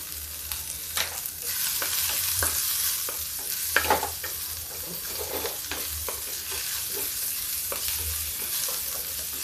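Onions and chilli fry in a pan, a continuous soft sizzle broken by repeated scraping stirs, close and fairly quiet with no talk.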